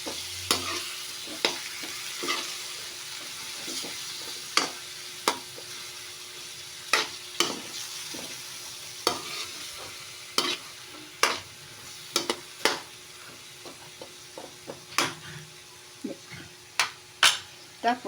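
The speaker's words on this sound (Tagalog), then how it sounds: "Haluin lang. Hayaan lang natin maluto yung mga gulay." Vegetables for pinakbet stirred in a pan, a spoon scraping and clacking against the metal in irregular strokes over a soft, steady sizzle, with occasional voices in the background.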